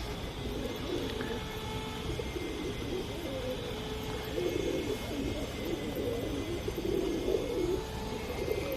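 A pigeon coos outdoors in a series of soft, low, warbling calls over a steady background hum. The coos are fairly faint and close together.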